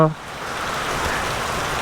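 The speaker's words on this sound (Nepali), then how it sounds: "कत्रो पानी परिरहेको छ" Heavy rain pouring down on a roadside, a dense continuous hiss of drops striking surfaces, loud and close, following a brief opening burst of sound.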